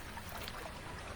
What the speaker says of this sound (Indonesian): Seperti suara air memercik.